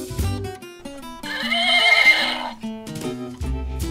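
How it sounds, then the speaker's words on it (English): A horse lets out a loud, quavering whinny lasting about a second, set against a bouncy melody with clip-clop beats. "The horse says neigh, neigh."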